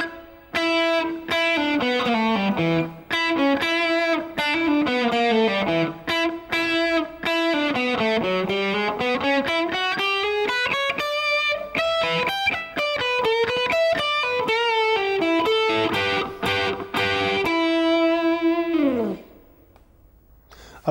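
Slow blues shuffle guitar solo, a distorted electric guitar through effects playing a continuous stream of sustained, bending single-note lines for about twenty seconds, loud and alone before the final note rings out and fades.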